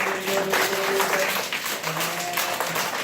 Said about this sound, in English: Everybody clap for these guys.